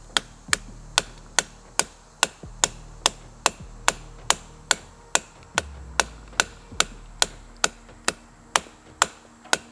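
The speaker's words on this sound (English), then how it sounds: "we take any variety of dots and beat them against this tree" A red dot sight, an ADE Trumpet RD3-029 with blue dot, is beaten against a tree like a hammer on a nail, producing about twenty sharp, evenly spaced knocks in a steady rhythm, loud and close.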